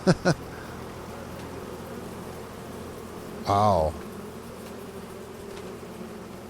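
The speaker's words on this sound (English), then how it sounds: "Yeah, lots of buzzing here." Bees drone with a faint, steady buzz in the Farming Simulator 25 game world, after two quick knocks at the start; partway through, a man briefly exclaims over the hum.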